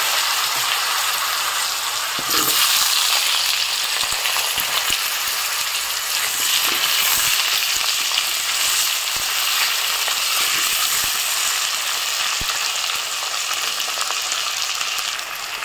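Cut potato pieces fry in hot oil tempered with cumin, giving a loud, steady, close sizzle that continues unbroken, with a few faint clicks of stirring underneath.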